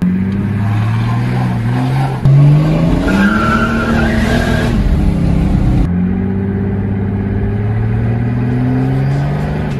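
A tuned turbo diesel car engine revs hard close by while its tires squeal in a long skid, the engine note rising and falling before cutting off and resuming.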